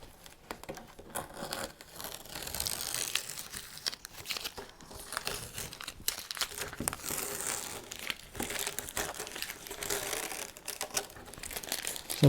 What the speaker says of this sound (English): the masking tape you tear away from the painting